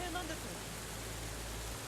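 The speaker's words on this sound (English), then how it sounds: "I turned towards the man who had spoken to me a bit ago and yelled so that my voice could be heard over the rain." Steady heavy rain pours in Steins;Gate 0 at a dried-up riverbed between high dikes, a dense even hiss with a low constant rumble, unbroken and fairly close throughout.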